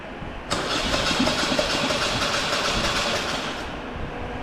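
A Polaris Sportsman 850 XP engine cranks, turning over suddenly with a loud, dense churning roar for about three seconds before cutting back to quieter background.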